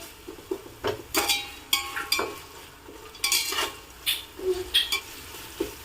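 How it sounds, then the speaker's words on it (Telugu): Onion and green chilli pieces fry in a pan, with a low sizzle under repeated clinks and scrapes of a spoon stirring them, close and moderately loud, in uneven bursts. "ఈ ఉల్లిపాయని పచ్చిమిరకాయ ముక్కల్ని వేయించుకుందాము"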